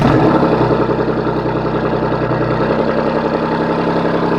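A Ford Raptor pickup truck's engine, started by remote start, runs at a loud, steady idle with a deep, throaty rumble close by and no talk.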